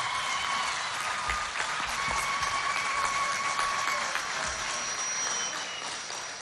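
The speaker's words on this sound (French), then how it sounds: "Applaudissements spéciaux à son Excellence, Monsieur le Président du Conseil militaire des transitions" An audience at an official youth employment launch ceremony in Chad breaks into sustained applause, a dense, steady roar of clapping with a faint tonal hum beneath, easing slightly toward the end.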